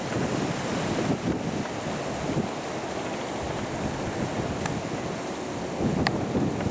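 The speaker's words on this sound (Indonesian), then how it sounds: "deburan ombak pantai selatan." Ocean surf on a south-coast beach near the Pandansimo river mouth, heard as a steady, diffuse wash of crashing waves mixed with gusty wind noise, with no voices.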